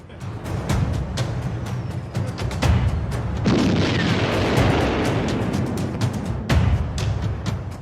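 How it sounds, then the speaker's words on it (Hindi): Heavy blasts and booming impacts from a missile strike on a building in wartime Ukraine, with repeated sharp bursts over a dense, continuous rumble that swells midway and stays loud throughout. "इमारत पर मिसाइल से हुआ हमला कैमरे पर रिकॉर्ड हुआ।"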